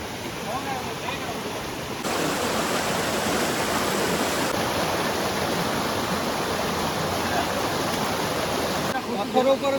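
The Brahmanidevi waterfall roars in a broad, steady rush of flowing water that swells louder partway through and stays constant, with faint bits of voices near the end.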